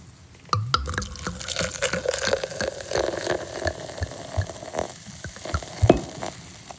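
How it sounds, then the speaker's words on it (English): A fizzy drink poured into a glass, a steady crackling hiss of bubbles with scattered drips and splashes, close and fairly quiet, with no talking. "Let's pour our drink."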